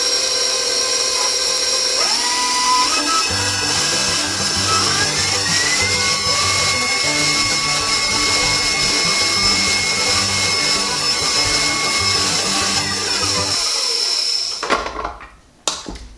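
An electric mixer creaming softened butter and sugar for a layered Southern possum pie dessert, its motor whining up to a steady, loud hum for over ten seconds before slowing and stopping with a few clatters.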